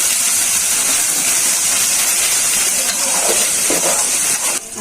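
Dried chepa shutki fish and garlic fry hard in a pan, giving a loud, steady hiss and sizzle that runs nearly the whole time, with a few brief clinks near the end.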